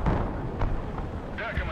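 Artillery fire in the real-time strategy game Broken Arrow, a continuous rumbling barrage of low booms with a few sharper blasts, heard close and fairly loud with a voice speaking over it.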